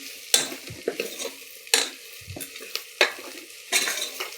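A utensil stirs spices and masala in a frying pan for a potato and field bean kurma, giving intermittent scraping strokes and clinks against the pan over a faint sizzle, close and fairly quiet.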